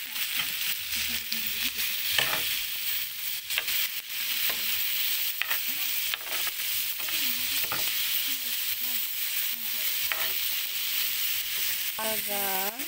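Tomato goes into a hot pan and sizzles steadily while a utensil stirs and scrapes now and then, the frying hiss staying constant from start to finish with faint background sounds.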